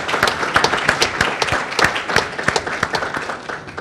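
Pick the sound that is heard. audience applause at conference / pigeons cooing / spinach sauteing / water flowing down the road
audience applause at conference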